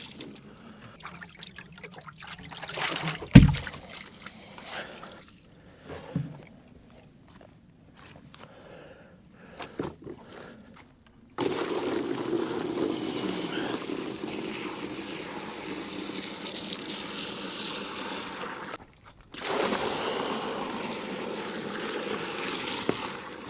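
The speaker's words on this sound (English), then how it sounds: "Basically all I'm going to do is dump it out, add a little fresh water, swish it around in there, make sure it's all cleaned out" Water splashes and pours as a pig's bucket on a farm is dumped out, rinsed and refilled. A few clanks and sloshes come first, then a long, steady rush of running water with one brief pause.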